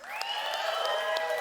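Audience at the Square Enix E3 2019 showcase applauds and cheers steadily, a dense continuous wash of clapping with bright whoops rising over it, filling the hall without pause.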